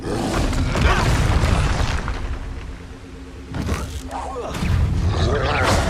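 Expulso explosion spell cast in the Hogwarts Legacy video game on PS4: loud, booming blasts and thuds with crackling bursts, fading in the middle and returning strongly near the end amid game combat noise.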